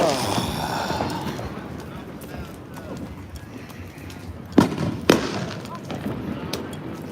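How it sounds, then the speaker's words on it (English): Fireworks pop on election night in Corpus Christi, two sharp bursts standing out over a crowd-like background as people talk nearby. "It's all the fireworks."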